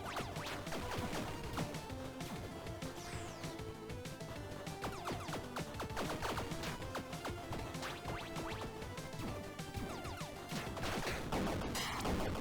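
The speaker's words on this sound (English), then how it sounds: "And the gargoyle gets exploded by a grenade." Grenade blast striking a gargoyle in the pixel-art roguelike Tiny Rogues, buried in a dense, loud, continuous wash of game combat with rapid gunfire-like pops, crashes and layered music throughout.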